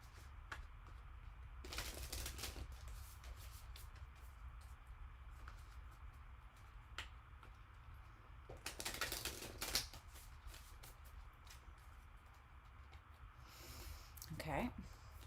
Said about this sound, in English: give it a really good shuffle.